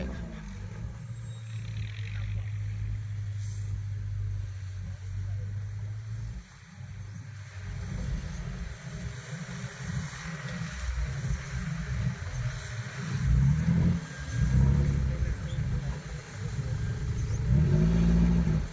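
A heavy tractor engine rumbles steadily throughout, its pitch rising and surging in the second half as it works harder, with no talking.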